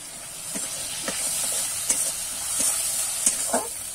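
Green peas fry in a kadai, giving a constant hissing sizzle while a spatula stirs them with light, irregular taps and scrapes against the pan, close and without any voices.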